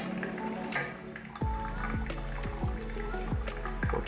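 Water pours over coffee grounds in a Hario V60 pour-over in a continuous trickling stream, with gurgles and bubbly rising tones as the liquid fills, close by and fairly quiet.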